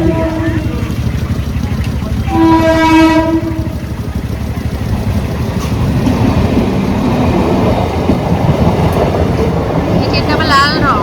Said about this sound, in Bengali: এই ট্রেনটা আবার লাল রং।